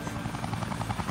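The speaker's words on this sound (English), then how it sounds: "Somebody call for a helicopter?" Cartoon helicopter rotor chopping steadily at close range, a loud rhythmic thudding over engine drone with no voices.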